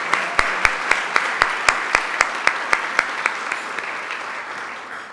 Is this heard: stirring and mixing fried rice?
no